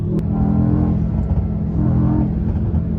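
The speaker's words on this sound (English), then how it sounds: "You instantly hear that this car has an OPF." A 2020 Mercedes-AMG E63 S fitted with an OPF particulate filter, its engine giving a deep steady rumble and brief revving, close and fairly loud with no talking.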